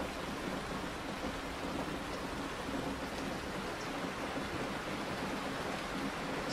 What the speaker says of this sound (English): You can hear the sound of rain falling on the van's roof.